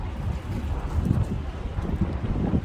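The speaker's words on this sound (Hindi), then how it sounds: "बहुत प्यारी हवा चल रही है" Wind gusts across a rooftop by the beach in Bahrain, a loud, steady buffeting roar pressing against the microphone with low rumbling swells and no talking.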